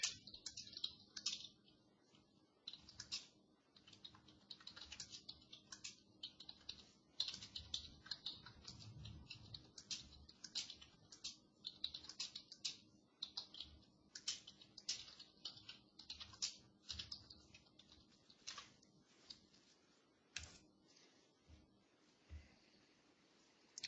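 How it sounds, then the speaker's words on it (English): Typing on a computer keyboard, with quiet, close keystrokes that rattle along in irregular bursts and brief pauses for about twenty-four seconds and no one speaking. "let me type a message"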